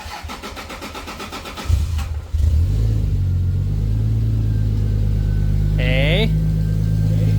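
A turbocharged Lexus IS300 with a new fuel system cranks briefly and fires up, settling into a loud steady idle, with someone speaking over it near the end.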